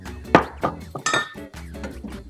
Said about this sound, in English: Give this a little bit of a stir